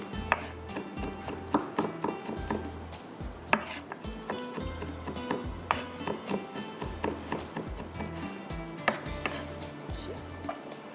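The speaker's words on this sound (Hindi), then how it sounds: "चलें जी, इसको करते हैं बारीक बारीक चॉप" Knife chopping garlic finely on a board in a home kitchen, a steady run of close, crisp taps in quick rhythm with a few louder knocks and brief pauses.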